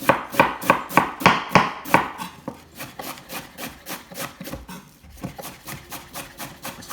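Cabbage is finely shredded with a knife for sauerkraut, producing a fast, regular run of sharp chopping strokes on a wooden board, louder and crisper at first, then slightly softer but still rhythmic throughout.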